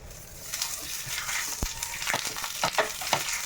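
Breakfast food frying in ghee in a pan, a steady sizzle broken by spatula scrapes and clacks in an irregular rhythm, close and moderately loud, with no talking.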